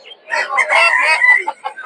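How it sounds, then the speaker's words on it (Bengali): Several chickens, including Silkie and Polish cap breeds, cluck and squawk close by in a short, busy burst at a rural market, their calls overlapping with no talking. "দেখতে পাচ্ছেন সুন্দর সিল্কি মুরগি আর ওই জায়গায় হচ্ছে পুলিশ ক্যাপ মুরগি"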